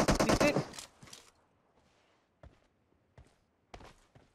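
Gunfire from a shotgun in a shooter video game: loud talk at the start, then three separate sharp shots spaced about a second apart against a quiet background.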